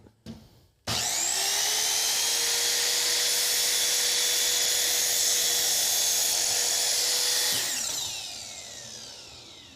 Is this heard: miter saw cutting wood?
yes